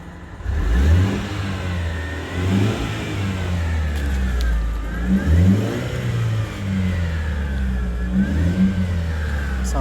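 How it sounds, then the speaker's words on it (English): Mercedes C180 Kompressor with a 1.8 petrol engine and a brand new exhaust, revved several times in a row, each rev rising and falling over a steady idle, close and loud. "engine sounds"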